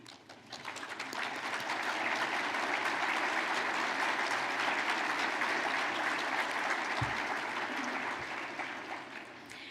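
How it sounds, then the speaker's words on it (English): Board and council members at a regional chamber of commerce annual meeting receive a sustained round of applause from a large indoor audience, building quickly, holding steady and dense, then easing toward the end. "Would all of the board and council members in attendance this morning stand up for a much-deserved round of applause?"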